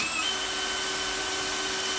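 A drill bores drainage holes into the plastic tank of a homemade rain barrel, a steady high-pitched whine running throughout, close and continuous.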